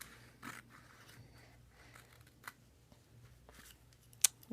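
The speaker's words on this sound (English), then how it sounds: "Now I'm going to take my scissors and I'm going to cut from here to here." Scissors make a few quiet, separate snips through paper at close range, spaced irregularly, with one sharper cut near the end.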